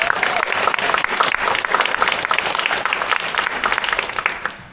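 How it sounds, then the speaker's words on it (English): An audience claps steadily at a volunteer appreciation event, with dense, sustained applause filling the room at close range for a few seconds before it begins to thin out. "Let's give Bindula a big round of applause."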